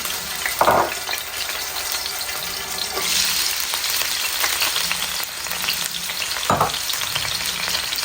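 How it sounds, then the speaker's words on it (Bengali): Garlic and onion sizzle and fry in hot oil in a pan, a steady crackling hiss close by, broken by a couple of brief louder splashes or stirs, with no voices. "তেল দিলাইছি, এখন রসুন দিলাম, রসুন আর পেঁয়াজ।"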